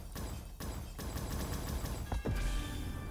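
Loud, dense bursts of blasts and crackling booms in the Roblox game Blade Ball, several sharp hits in quick succession over a constant roar, with no talking.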